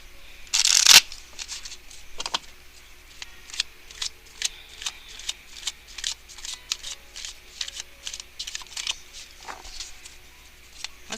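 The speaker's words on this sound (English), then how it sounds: "we're going to shuffle the Halloween Tarot card" Halloween tarot cards are handled, with one loud riffling shuffle near the start followed by a long run of light, crisp card snaps and flicks at an uneven rhythm, close and with no voices.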